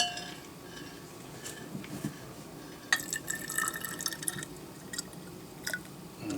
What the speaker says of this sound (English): And now I'm going to add my water.